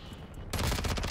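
Automatic gunfire in the shooter Modern Warfare 2, a sudden burst of rapid shots that starts midway and rattles on loudly and close, after a quieter moment of background game noise.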